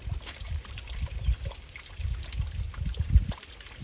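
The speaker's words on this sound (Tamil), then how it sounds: "இதில் தான் அவங்களுக்கு வந்து தண்ணி விழுகும்" Water pours and trickles steadily into a well on a farm, a low splashing rumble with occasional louder gushes, fairly close and with no talking.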